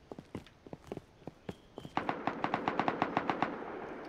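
Video game AK rifle fire: scattered distant single shots at first, then a fast, steady automatic burst of about a dozen closer rounds, with no talking.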